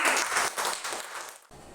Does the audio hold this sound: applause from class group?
yes